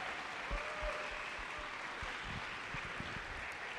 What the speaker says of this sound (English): Let's give a round of applause to all of the coaches and mentors.